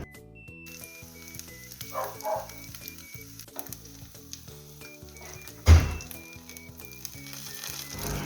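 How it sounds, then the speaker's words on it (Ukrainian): Zucchini fritters frying in fat in a pan, a soft ongoing sizzle beneath background music, with one sharp thunk of the pan or utensil partway through. "Смажити оладки буду на пательні з додаванням жиру."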